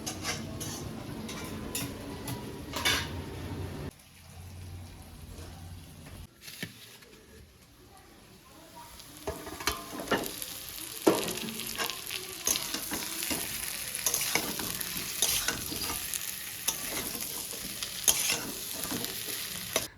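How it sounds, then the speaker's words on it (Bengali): Egg and potato sauté in a pan with a steady sizzle, broken by the scrape and clink of a spoon stirring, and a short quieter gap partway through. "তো দেখো ডিমটাকে আবার ওই আলুর সাথে একটু কষিয়ে নিয়ে"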